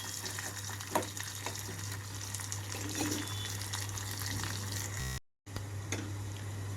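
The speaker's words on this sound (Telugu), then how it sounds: "ఇక్కడ ఉల్లిపాయలు అంతా సాఫ్ట్ కలర్కి వచ్చే వరకు వేగిపోవాలి." Onions, slit green chillies and curry leaves frying in a pan, giving a steady close sizzle with a low constant hum underneath, a few soft stirring clatters, and a brief dropout near the end.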